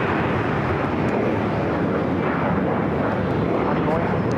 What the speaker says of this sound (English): A330-200 next heavy takeoff on the north side.